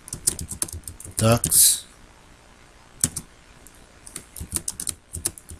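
Typing on a computer keyboard comes in quick bursts of close key clicks with a brief pause between them, while a person talks over part of it.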